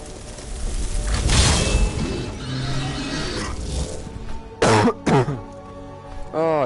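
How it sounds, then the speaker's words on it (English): A character in Skyrim VR coughing and clearing the throat after too much red water skooma: two sharp, close bursts in quick succession, then a short voiced sound, over low game ambience. "Oh, I still got that cough."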